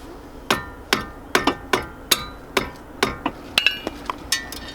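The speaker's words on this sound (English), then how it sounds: "Go ahead and tap it a few times to loosen it up." A hammer taps repeatedly on brake parts of a 2003 Subaru WRX during a brake pad and rotor job, sharp metallic strikes close by, roughly two per second in a steady, slightly uneven rhythm, with no speech.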